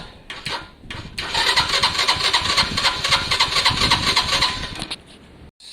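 A Lexmoto Valiant motorcycle that has lost its spark cranks over in one sustained, buzzing starter run of about four seconds, close and loud, without catching.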